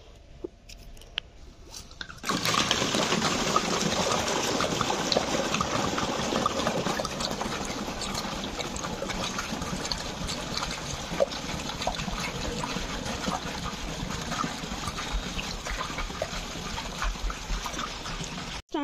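Water pours steadily into a bucket or vessel for a hot bath at home, a continuous splashing trickle that starts abruptly and runs on without pause, close and moderately loud.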